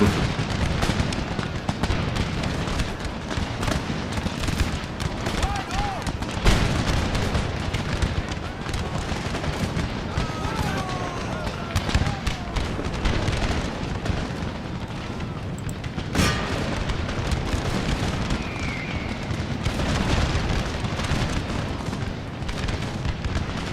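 Massed musket volleys from a British line firing at will in the Empire Total War Darthmod battle, a dense unbroken crackle of overlapping shots and booms for the whole stretch, loud and continuous, with faint talk underneath.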